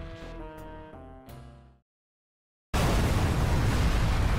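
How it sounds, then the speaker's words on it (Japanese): A city explosion in the video game Dragon Ball Z Kakarot: tonal game music plays, then stops for a moment of silence before a sudden, loud, sustained roaring blast fills the rest of the clip. "街中で爆発だ。"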